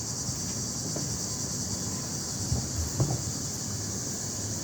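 Steady, faint insect buzzing from cicadas fills a hot summer outdoor setting, a continuous high-pitched drone with light wind and a couple of soft bumps, no voices.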